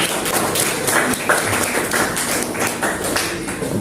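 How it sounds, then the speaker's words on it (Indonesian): Classroom applause from a group of students, a steady crowd of quick overlapping claps lasting several seconds at an even, fairly loud level. "Tepuk tangan dulu."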